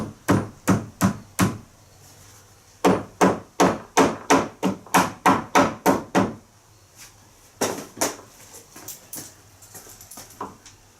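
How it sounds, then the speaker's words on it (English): Sharp wooden knocks from a rubber mallet on shed ladder stairs, struck in quick bursts of about a dozen blows, a pause, then another uneven run of hits, close and loud. "Knock it back with my rubber hammer."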